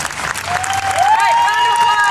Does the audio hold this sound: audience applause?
yes